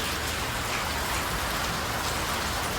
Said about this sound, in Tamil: பார்க்கலாம் இப்படியெல்லாம் மழை பெய்யும், பயங்கரமான மழை.